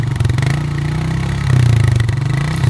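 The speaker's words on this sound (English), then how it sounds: "One is the car engine and another is the bike engine." A mid-pitched motorcycle engine idles with a steady, throbbing pulse, rising slightly in intensity about halfway through; no voices.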